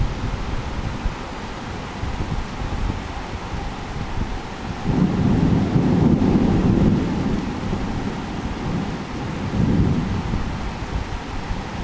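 Heavy thunderstorm in Bangkok, steady rain hiss with rolling thunder swelling twice into long low rumbles, loud and close, heard without voices.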